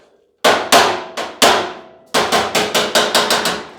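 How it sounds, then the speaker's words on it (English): A hammer strikes sheet metal being formed around a heavy flat bar dolly on a 1940 Ford-inspired hardtop coupe build, giving about eleven sharp, ringing metallic blows, close and loud, irregular at first and then quicker, with no talk. "forming the sheet metal up and around it"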